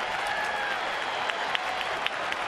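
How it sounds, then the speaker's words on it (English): A baseball crowd at a Houston versus San Francisco game applauds in a steady, dense wash of clapping that holds evenly for a couple of seconds, with a few sharper claps standing out. "he gets a nice round of applause as he goes back to the dugout"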